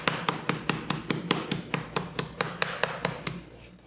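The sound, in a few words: rolling pin beating chicken breast flat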